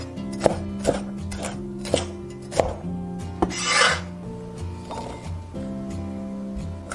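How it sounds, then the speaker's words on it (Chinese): Green and red bell peppers chopped into diamond-shaped pieces on a cutting board, knife hitting the board in steady separate strokes every half second or so, close and clear, with a brief rustle of pieces being gathered. "青红椒切菱形块"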